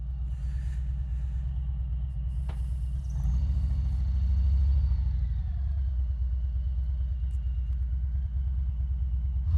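A Harley-Davidson Street Bob motorcycle idles while warming up, a deep, close, loping V-twin rumble that swells briefly in revs partway through and then settles back to a steady idle, with no talking.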